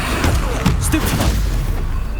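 A Stupefy stun spell fired in the Hogwarts Legacy video game, a short thumping burst with a bright magical whoosh, loud over a busy background of combat rumble that fades out.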